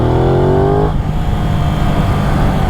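Aprilia RS660 motorcycle engine revving hard under acceleration, a loud rising whine that climbs in pitch, then drops off abruptly into a rough, steady engine roar.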